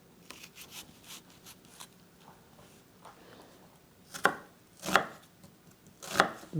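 A yellow onion being chopped very small with a knife on a cutting board: three sharp, fairly close chops stand out after a stretch of softer scraping and handling sounds.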